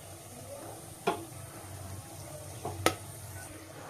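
Bay leaf and garam masala frying in hot ghee inside a pressure cooker, a low steady sizzle broken by two or three sharp clinks of a spoon against the pot.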